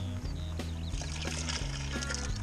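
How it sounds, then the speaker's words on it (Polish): Boiling water pours steadily from a kettle into a vessel, a bubbling, gurgling stream with soft music playing underneath; no talking. "Zalewam to gorącą wodą, można powiedzieć wrzątkiem,"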